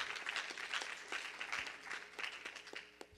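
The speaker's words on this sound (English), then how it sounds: "Give him a hand clap." A congregation at an evening church service gives a sustained round of hand clapping, dense and steady for about three seconds with faint voices mixed in.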